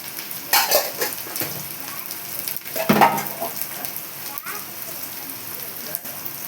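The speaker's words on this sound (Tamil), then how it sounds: "ஆனியன் போட்டு நல்லா வதக்கிடணும்" Onions and curry leaves sautéing in a pan, a steady crackling sizzle with bursts of stirring scrapes near the start and around the three-second mark, then settling into a softer continuous fry.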